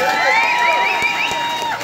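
At a Halloween night at a nightclub, the crowd cheers and whoops for someone in a Death costume, with loud overlapping shrieks and shouts, plus a few sharp claps.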